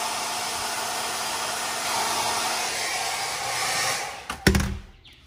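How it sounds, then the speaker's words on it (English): A hair dryer blows steadily at close range while heating vinyl wrap on a Toyota Tacoma grille emblem, its broad whoosh running for about four seconds before cutting off with a couple of handling knocks. "Now we need the hair dryer. I'm gonna heat it up a little, trying to make it more flexible, more stretchy."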